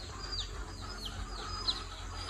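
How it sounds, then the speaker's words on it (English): Chickens in a rural yard, busy feeding on bugs on a cool day, with faint repeated chirping calls over a steady low background hum and no talking. "the chickens are going berserkos with all the bugs"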